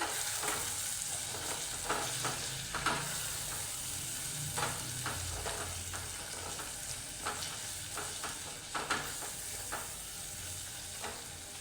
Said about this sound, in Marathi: आता ही छान ढवळून घेऊ आपण.